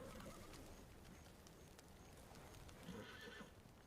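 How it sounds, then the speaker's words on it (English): Spooked horses neighing and hooves clip-clopping in a dramatic fantasy series scene, faint and muffled, with a rough steady background throughout. "They go check why your horses are spooked."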